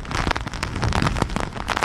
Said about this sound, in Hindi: लेकिन अभी जो हवा और बारिश है उसे देखकर ऐसा लग नहीं रहा है कि ये तूफान निकला है